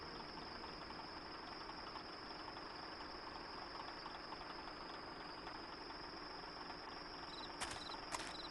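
A generator in the video game Dead Synchronicity runs as a faint, constant mechanical drone with a thin high whine on top, steady from start to finish.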